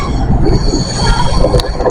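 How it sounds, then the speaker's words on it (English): Model railway train running along its track, a close, steady metallic rolling rattle with faint squeal, continuous throughout. "The Edinburgh train."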